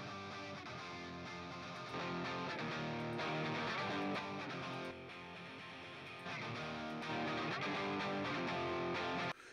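Multitracked distorted electric guitar through Orange and Vox amps plays a steady, dense rock part, loud and continuous with no voices, shifting level slightly between sections.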